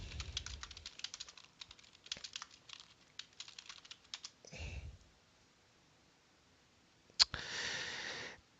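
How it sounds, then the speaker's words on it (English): Computer keyboard typing in quick bursts of close, light key clicks with short pauses between, followed by a few mouse clicks, in an otherwise quiet room. "Or you can type in the search box,"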